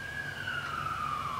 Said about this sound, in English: Thank you, Siren, for interrupting